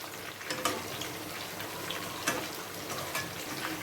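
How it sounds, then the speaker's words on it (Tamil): Chicken pieces frying in hot oil for hotel-style lemon chicken: a steady, moderate sizzle and crackle with occasional louder spits and bursts, no voices. "சிக்கன் வந்து நல்லா மொறு மொறுன்னு பொரியணும்"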